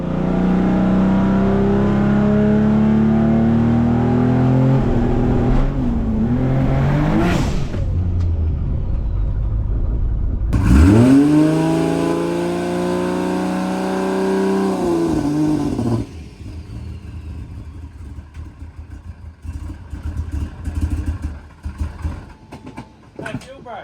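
A 1000HP 2JZ-powered Holden Commodore launching on a driveway: loud engine revs and a hard acceleration burst that climbs and fades, then rough idling and crackling rumble.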